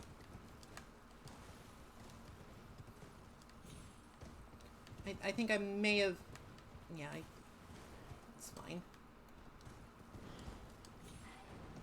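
Horse hooves in the video game Elden Ring clip-clop at a steady gallop, faint under someone talking, with a louder burst of game sound in the middle.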